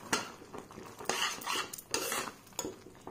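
Tomato chutney made with desi tomatoes and brown sugar is stirred in a pot, a series of close, irregular metal spoon scrapes and clinks against the pot, with no one talking.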